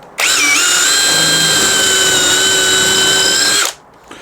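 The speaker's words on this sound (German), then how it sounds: "weil man darf natürlich auch nicht zu tief bohren" A power drill bores 8 mm dowel holes in cabinet wood. The tool whines loud and steady for roughly three and a half seconds, then stops, with no voices present.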